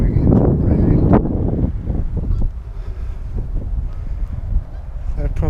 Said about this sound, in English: Look at all these geese here